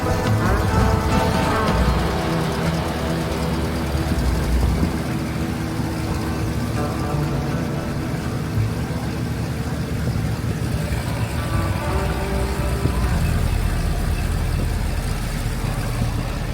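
Boat engine on a cruise from Marsden Cove to Port Whangarei, running steadily at moderate volume with a continuous mechanical drone and slight rises in revs, heard alone without talk.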